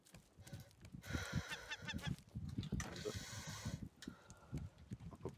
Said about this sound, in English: I hear seagull.